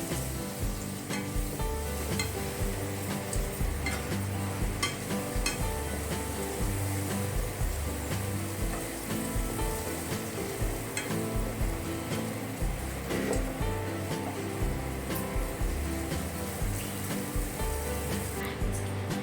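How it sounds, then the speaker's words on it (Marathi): Spices and red chilli powder sautéing with mutton in a pan, a loud, continuous close sizzle with steady stirring and scraping throughout, no voices. "तर हे मसाले चांगले परतून झाले"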